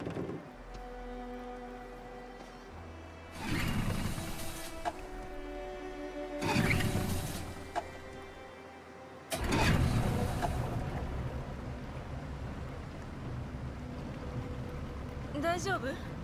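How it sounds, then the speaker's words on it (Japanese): A boat engine in Detroit: Become Human cranks in a few rough, roaring bursts before catching and settling into a low, steady running drone, with voices speaking quietly around it. "エンジンをかけよう。"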